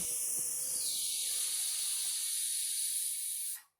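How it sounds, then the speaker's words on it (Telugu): A pressure cooker cooking amaranth leaves lets out one loud, steady, high steam whistle with a broad hiss that holds for about three and a half seconds, then cuts off sharply. "ఇక్కడ నాకు నాలుగు విజిల్లు వచ్చాయండి"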